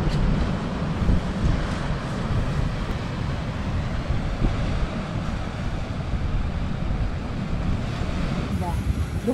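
Ocean surf on the Irish coast, with waves rolling in and breaking amid steady wind noise buffeting the microphone, a continuous loud wash with no clear pause between breakers.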